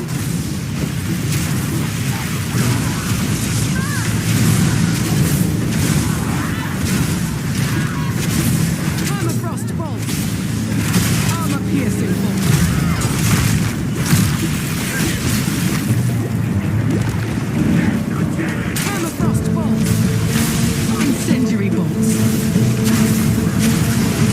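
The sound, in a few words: incendiary bolt explosions in video game Path of Exile 2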